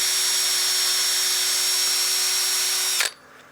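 Steady, loud whir of a power sander working a wood platter with fine-grit net or screen abrasive discs, continuous for three seconds before cutting off abruptly into quiet.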